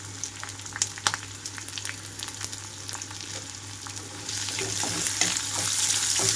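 Chopped onions and green chillies frying in a hot pan give a steady, close crackling sizzle with scattered pops and stirring scrapes, growing louder and brighter toward the end, with no voices.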